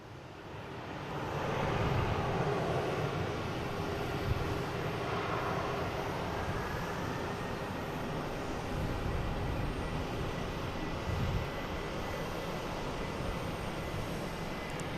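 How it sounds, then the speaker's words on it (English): A Boeing 747 taking off at Boston Logan airport, heard as a broad, steady engine roar that swells in and holds loud for the whole stretch, with a faint rising whine threading through it. "we just had the 747 clear for takeoff"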